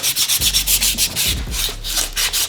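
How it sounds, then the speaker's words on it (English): Sandpaper wrapped around a garage door torsion bar rubs back and forth to smooth off burrs, a close, steady rhythmic scraping of about a dozen quick strokes with no talking. "So I'm just gonna go ahead and wrap this around, and we're just gonna sand it down a little bit."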